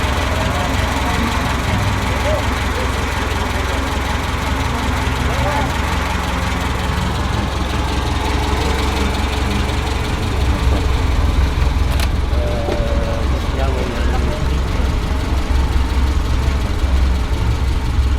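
NSU TT 1200 driving on a sunny road, a steady engine drone heard from inside the car over continuous road and wind noise, with no clear speech.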